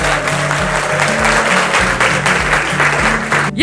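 A roomful of people at a quiz-style study event claps strongly and continuously, a dense steady roar of hand claps that holds level and then cuts off at the end.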